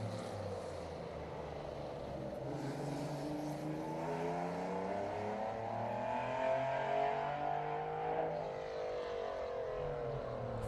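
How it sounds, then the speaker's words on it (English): A Ferrari P4 replica race car with a fuel-injected quad-cam V12 sounds at a historic sprint event, heard from a distance as a smooth, layered engine note that rises and falls through gear changes. "Fuel-injected quad-cam Ferrari V12 powering that machine."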